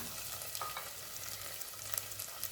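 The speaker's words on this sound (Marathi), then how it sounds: "सर्व परतून घ्यायचं आहे यामध्ये" Rice with potato, peas, tomato and spices being sautéed in a pan, a dense continuous sizzle with soft scraping stirs throughout, fairly quiet and without talk.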